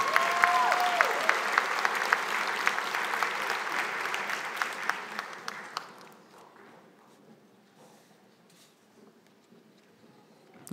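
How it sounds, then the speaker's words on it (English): A fall graduation audience applauds the runners-up, a broad sustained wash of clapping that holds steady for several seconds and then thins out to scattered claps and near quiet. "a big round of applause for our runners-up"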